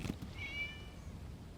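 A cat meows once inside the Genshin Impact game world, a short tonal call heard faintly over a low, steady ambient background with no voices.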